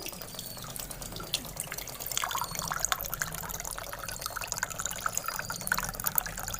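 Dirty water pours from a back-flushed RO water purifier filter into a glass, a continuous close trickle and splash that grows slightly fuller after a couple of seconds and runs steadily with no talk.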